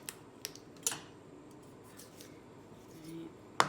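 Cutting through the cartilage of a raw chicken wing, heard as a few quiet, sharp snips and crunches close by, with faint handling noise between them.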